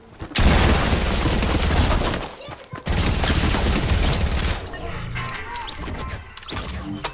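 Heavy, sustained gunfire in Fortnite Battle Royale roars in dense continuous bursts, loud and close, with a short break before firing resumes and then eases somewhat.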